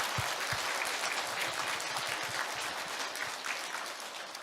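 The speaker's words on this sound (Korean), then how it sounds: "하나님 앞에 영광의 박수 올려드립니다" A Sunday church congregation in Gwangju claps together in praise, giving a continuous, fairly soft patter of many hands with a few louder nearby claps standing out.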